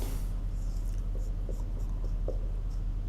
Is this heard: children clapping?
no